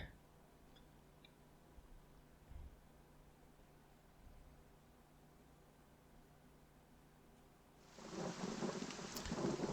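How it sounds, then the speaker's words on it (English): Rain and thunder in the video game Pillars of Eternity, at the Stormwall Gorge. A faint, low rumble and soft background hiss swell near the end into loud, dense rainfall. "it's raining"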